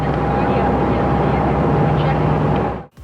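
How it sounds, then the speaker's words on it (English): Steady low drone of a ferry boat's engine on the water near San Francisco, a constant hum, continuous and fairly loud before cutting off abruptly at the end. "we were on the ferry boat heading back home"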